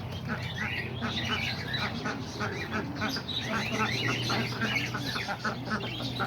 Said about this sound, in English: So yeah, there's all the pigeons right here just hanging around.